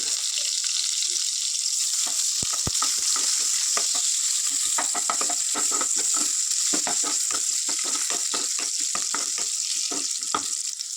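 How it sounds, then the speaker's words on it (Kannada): Sliced onion frying in hot oil with pulao masala for a hotel-style chicken gravy, a dense, bright sizzle with rapid crackling pops throughout, close and loud, no talk. "ಒಂದು ಅರ್ಧ ಈರುಳ್ಳಿನ ಹಾಕ್ಕೊಂಡು ಕಲರ್ ಚೇಂಜ್ ಆಗೋವರೆಗೂ ಚೆನ್ನಾಗಿ ಫ್ರೈ ಮಾಡ್ಕೋಬೇಕು"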